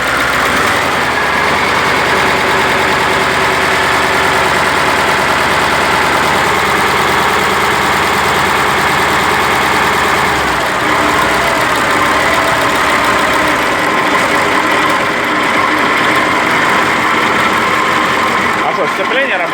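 A KAMAZ truck diesel engine runs at a steady, loud idle after starting, with a rough, rumbling drone close by and people talking over it.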